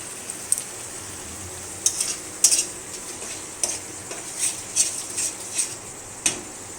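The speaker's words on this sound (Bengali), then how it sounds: "মশলাটা ততক্ষণ কষবো যতক্ষণ না এর থেকে তেল ছাড়ছে" Spice masala stir-fried in oil in a pan, with a soft steady sizzle under repeated sharp scraping clicks of a spatula against metal, coming in irregular bursts close up.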